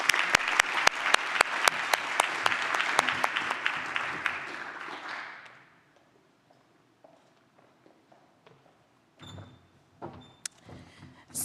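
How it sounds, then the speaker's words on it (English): An audience applauds award winners at a law school awards ceremony with a dense burst of clapping that tapers off after about five seconds. Scattered footsteps and light shuffling follow. "let's give our Public Service Hours Awards winners another round of applause"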